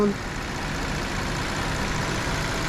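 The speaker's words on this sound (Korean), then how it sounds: "소리도 지금 엔진 시동을 걸어놨는데 이런 소리가 사실 엔진에서는 나줘야죠" Engine of a 2023 Genesis G90 long-wheelbase mild hybrid with 48V electric supercharger idling after start, a steady low hum and broadband rumble heard from close by in the engine bay, continuous and even.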